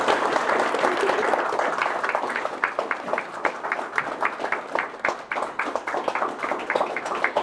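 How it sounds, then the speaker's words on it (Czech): An audience applauds Osvald with steady clapping from a sizeable crowd. It starts as a dense wash, then thins into distinct, rhythmic claps as it goes on. "Potlesk pro Osvalda,"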